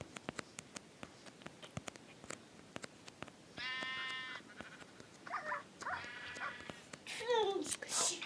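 A sheep in the Minecraft video game bleats in short harmonic calls in the second half, after a run of faint clicking taps, with a few more bleats near the end.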